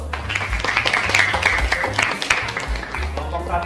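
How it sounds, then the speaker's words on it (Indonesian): A classroom group claps for a presenting team, a short burst of steady applause with voices and noise mixed underneath. "tepuk tangan dulu"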